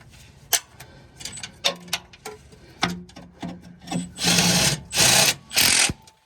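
Truck starter bolt torqued to spec with hand tools, heard as close, sharp ratcheting clicks and metal taps that build into several longer rasping bursts near the end, with no talk.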